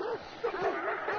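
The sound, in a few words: dog barking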